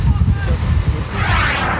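Strong wind buffets the microphone at an outdoor car rally in St-Joseph, a loud, continuous low roar with gusting swells and no pauses.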